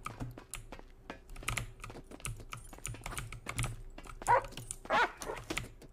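Dogs in the GTA video game bark and whimper in repeated short bursts, heard alongside rapid, close computer keyboard typing that clatters throughout, with the loudest dog cries coming near the end.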